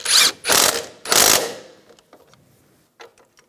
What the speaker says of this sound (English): Put the nut on, tighten this down.